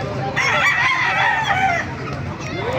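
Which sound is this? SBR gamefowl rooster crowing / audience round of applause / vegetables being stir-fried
SBR gamefowl rooster crowing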